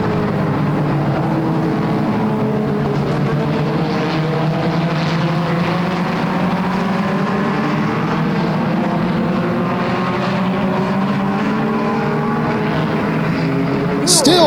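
Pure stock race cars roaring down the front straightaway at Flamboro Speedway, engines droning loud and continuous with shifting, overlapping pitches as they run side by side, under a commentator's voice.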